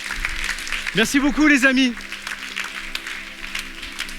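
An audience applauds at a French-speaking church service, a steady wash of clapping that sits under someone speaking.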